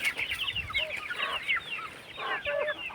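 Chickens on a poultry farm kept in an areca nut plantation behind mesh fencing cluck and chatter in short overlapping bursts, close by and moderately loud, with no talk.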